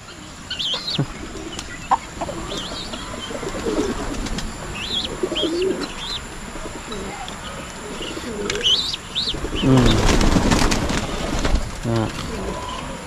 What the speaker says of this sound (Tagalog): Napakarami na sa ating mga alagang kalapati.